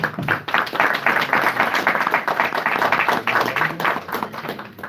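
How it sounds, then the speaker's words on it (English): Steady, fairly loud applause from the audience at a boxing press conference in Texas, with many hands clapping densely and continuously throughout the moment. "Guys, round of applause again."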